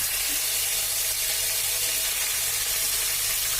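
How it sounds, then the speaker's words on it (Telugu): Chopped onions and green chilies sizzling in hot oil with a bay leaf, a steady, dense hiss of frying that runs evenly throughout without talk. "కట్ చేసి పెట్టుకున్న ఆనియన్ ముక్కలు ఇంకా పచ్చిమిర్చి ముక్కలు అనేది వేసుకొని మనం కొంచెం వేయించుకోవాలి"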